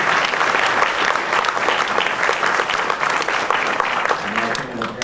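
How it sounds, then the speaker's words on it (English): Sustained, loud applause from a crowd honoring graduates at a university mathematics graduation ceremony, an even wash of many hands clapping with a faint voice starting near the end. "And I think it's a big round of applause for the graduates."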